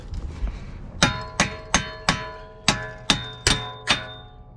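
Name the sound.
hammer striking 2021 Hyundai Santa Fe hub to remove it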